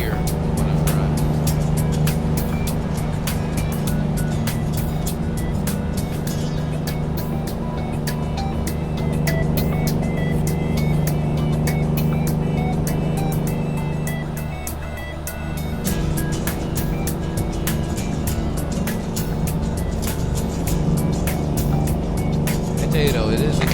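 A Kenworth T2000 truck engine in American Truck Simulator makes a continuous, steady drone with a slightly varying pitch that holds at an even level almost the whole time.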